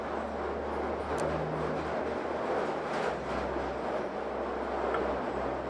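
Steady rumbling train noise from the Pandemic Train video game, a continuous rolling drone with faint clatter, heard alone without voices.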